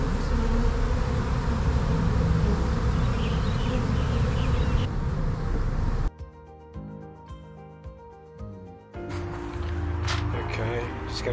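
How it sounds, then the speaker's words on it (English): Bees swarm around a hive in a tree, a dense, loud buzzing that fills the first half and then thins into a quieter hum behind music and noise. "Going to go check on the bees and hive, the beehive up in the tree."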